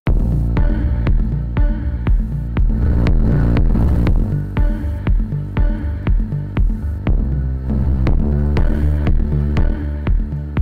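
A drive distortion plugin effect on a drum loop gives loud, pulsing, gritty hits in a steady repeating rhythm with thick low-end saturation.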